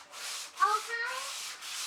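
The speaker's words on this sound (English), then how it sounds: "That's a sanding block." A sanding block rubs back and forth across a bathroom wall in a few soft, scratchy strokes, quiet and close.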